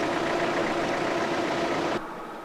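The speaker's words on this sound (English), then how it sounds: "the reason you did not turn off the engine of the truck was why?" A safari truck's engine idles at Queen Elizabeth National Park in Uganda, a steady close rumble that drops in level near the end, with no talking over it.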